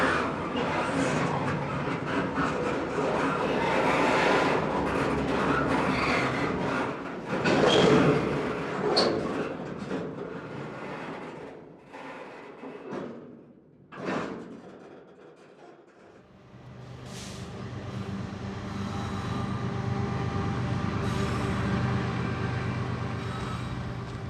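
A freight train rolls along the rails with a continuous low rumble and metallic rattling that swells and dips, fading nearly to quiet midway before the heavy grinding returns and holds steady.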